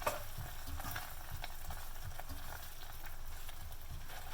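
Rasam spices and tamarind paste are stirred in a hot pan, giving a steady close sizzle with soft scraping strokes throughout, no voices.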